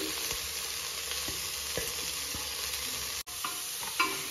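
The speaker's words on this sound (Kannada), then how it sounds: "ಈರುಳ್ಳಿ ಹಾಕೊಂಡ್ಮೇಲೆ ಮೆಂತ್ಯ ಸೊಪ್ಪು ಹಾಕೊಳ್ಳಿ." Onion and fenugreek leaves frying for methi pulao, with a steady broadband sizzle and stirring scrapes throughout, one sharp clack near the end, no voices.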